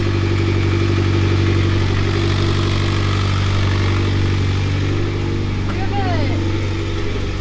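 A Mitsubishi Lancer Evolution X engine idles steadily nearby for several seconds, a low continuous rumble with a brief faint squeak near the end.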